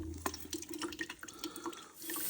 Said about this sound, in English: Now I'm just going to add a little cold water.